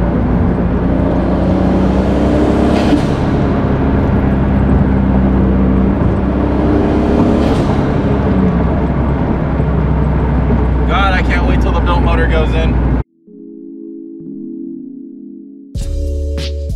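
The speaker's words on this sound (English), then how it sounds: "Get some quick turbo noises real quick." A McLaren sports car driven in light traffic on the way to a car meet, its engine and turbo whirring and rising in a continuous drone, close and loud, before it cuts off and a brief later sound follows.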